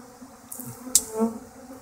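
Swarm of bees buzzing around a flower pot set in front of a hive, a faint, steady insect drone with a brief sharper buzz passing close by.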